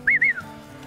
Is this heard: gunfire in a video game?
no